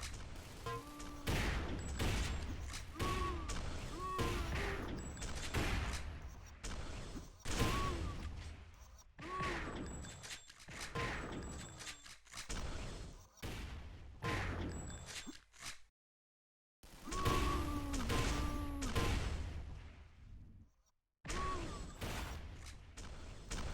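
Rifle fire in a fast video game duel, repeated sharp gunshots and thuds in dense irregular bursts with brief gaps, several clipped silences and a loud, close, busy mix.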